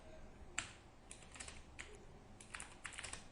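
Typing on a computer keyboard while entering code, quiet irregular key clicks in short bursts with one sharper tap near the start, and no talking.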